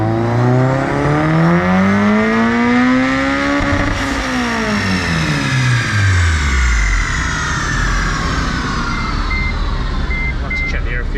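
A Mugen Honda Civic Si engine on a dyno in fourth gear, loud and close, revving up with rising harmonics, then dropping back and climbing again in one long steady sweep, with no voices over it.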